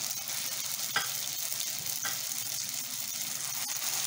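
Lumpiang shanghai deep frying in hot oil, a steady close sizzle with a couple of soft stirring clinks and scrapes.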